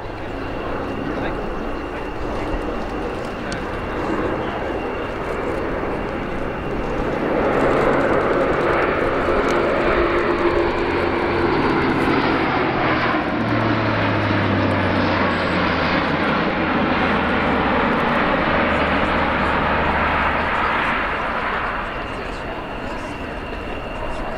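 Airbus A400M Atlas turboprop military transport flying a display at the RIAT 2018 air show, its deep propeller drone swelling loudly as it passes close and then easing away, with a commentator talking over it.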